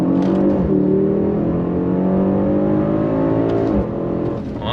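A 2025 Mercedes-AMG GLE63 S coupe SUV accelerates hard under full throttle, its engine note climbing through the revs with a gear change partway and another shift near the end, loud and close from inside the car.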